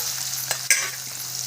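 Vegetables sautéing in a pan, a close, continuous sizzle with a couple of sharp stirring scrapes over a brief stretch, and no voices.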